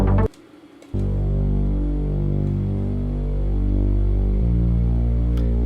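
A deep, steady synth pad drones low and sustained, with a brief dip near the start and a slight shift in tone later.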